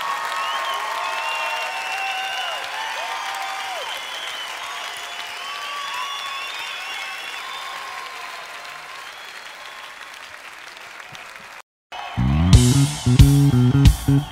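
A church congregation gives sustained, steady applause that fills the space for about twelve seconds, then cuts abruptly into loud rhythmic music.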